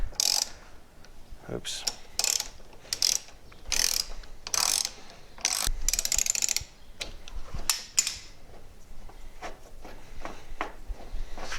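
A ratchet clicks repeatedly as it loosens the rear shock bolt on a Chrysler Town and Country minivan, in close bursts of sharp pawl clicks with short pauses; a voice briefly speaks once.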